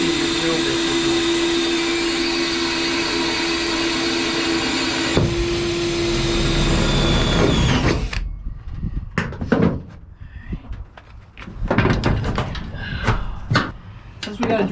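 A power drill bores through metal with oil on the bit while installing a truck bed slide: a steady loud whine for about eight seconds, then stops, followed by scattered clunks and handling knocks nearby.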